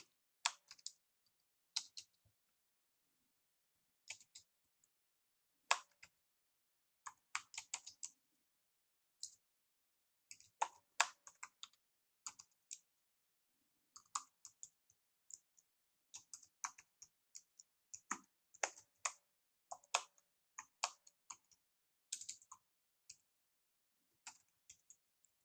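Someone typing a Facebook post on a computer keyboard, producing quiet bursts of close key clicks separated by brief pauses, with no talking.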